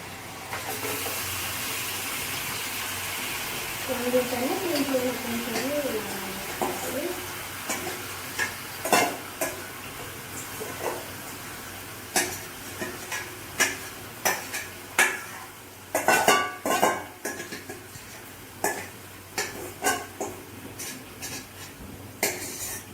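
Chicken pieces sizzle steadily in a pot of biryani masala while a metal spoon stirs and scrapes the pan, sending out repeated sharp clinks and scrapes over the continuous frying hiss, close and fairly loud.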